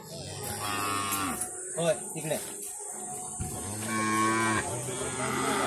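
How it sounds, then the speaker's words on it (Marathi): Cows in a cowshed holding about fifty-six animals, several loud drawn-out moos from nearby overlapping one another, with people talking in between. "तर इथे आपल्या सगळ्या गायी ज्या आहेत त्या सध्या इथे सोडलेल्या आहेत."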